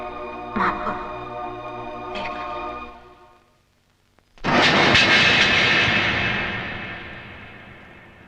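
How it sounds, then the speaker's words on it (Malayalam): Airplane engine of a departing flight roars up loudly after a quiet lull, a broad sustained jet-like rush that slowly fades, following an earlier steady engine hum. "ഫ്ലൈറ്റ് ഇപ്പൊ പോയി കാണും അല്ലേ?"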